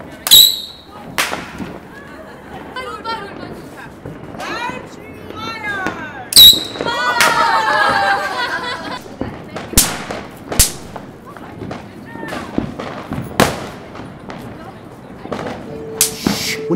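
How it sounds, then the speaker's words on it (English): Fireworks burst at a family festival celebration, with sharp, loud bangs scattered irregularly through the scene, crackling and fizzing between blasts, and people talking and reacting in the background. "Now let's watch some people blow up some fireworks."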